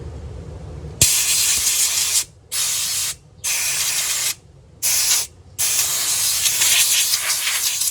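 Compressed air from a 30-liter air compressor blasts through a stainless mesh cabin filter of a 2019 Nissan Navara in loud, steady hissing bursts, cut by several brief pauses, with no talking.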